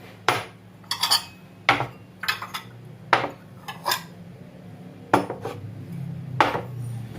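Bowls and dishes clink and clatter in a kitchen while a Romanian piftie gelatin soup is prepared, a series of separate sharp knocks and ringing taps spaced irregularly, close and fairly loud against a low hum.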